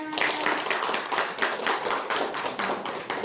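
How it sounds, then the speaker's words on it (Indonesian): Applause from a group in a classroom, steady dense clapping that carries on throughout without any voices. "tepuk tangan untuk Mbak Linda."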